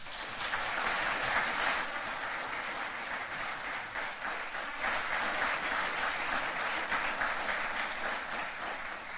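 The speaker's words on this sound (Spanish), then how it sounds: "me gustaría también para ellos un gran aplauso" Sustained applause from a conference audience at a sustainable tourism event session in Aysén, Chile, a dense, steady wash of many hands clapping throughout, fairly distant and even in level with no speech on top.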